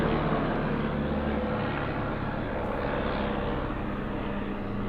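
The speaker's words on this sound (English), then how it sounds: "there's just like literally a plane flying over right there" An airplane drones overhead in a steady, fairly loud rumble that holds evenly throughout, heard outdoors near an old jail with no talk over it.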